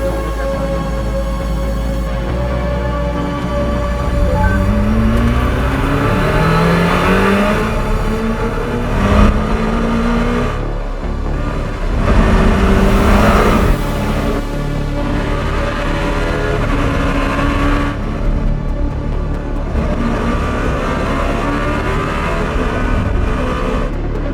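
Czinger 21C hypercar accelerating hard out of a corner at Laguna Seca Raceway, a loud, steady engine roar climbing through rising pitch sweeps as it shifts up through the gears.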